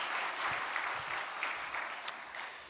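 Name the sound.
congregation applause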